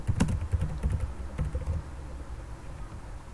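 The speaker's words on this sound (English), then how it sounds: "Sorry if I type very loud." Loud, quick typing on a computer keyboard, dense clattering keystrokes for about two seconds that then trail off into quiet room tone, with no voices.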